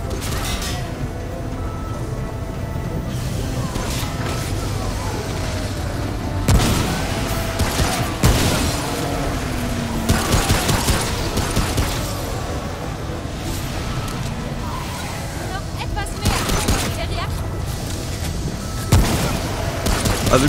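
Shotgun and other weapon fire in the video game Remnant: From the Ashes, with repeated loud blasts over a dense, busy game soundscape.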